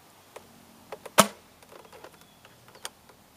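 A Nerf Deploy blaster fires a single Elite dart, giving one sharp, loud crack near the start of the clip, with a few faint clicks and handling knocks before and after in a quiet room.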